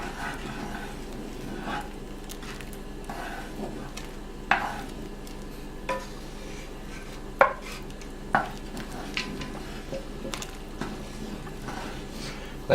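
Roux being stirred into gumbo in a cast iron pan, soft scraping and gentle sizzling with scattered clicks and taps of the utensil against the pan, fairly quiet.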